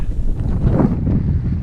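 Wind gusts buffet a microphone outdoors on a cold morning at a winter camp, a loud low rumbling roar that swells and eases.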